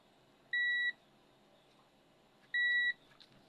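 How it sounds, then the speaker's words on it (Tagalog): An electrical tester's buzzer beeps twice while testing a full-wave motorcycle stator, two short, sharp electronic tones about two seconds apart over a quiet background. "Naka-set tayo ng buzzer."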